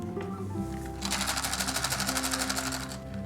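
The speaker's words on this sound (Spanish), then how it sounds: "se meten guisantes dentro del juguete y suena así." Wooden baby toy rattle with dried peas inside, shaken in a fast, even rhythm of bright, dense rattling taps close by over a low steady background hum.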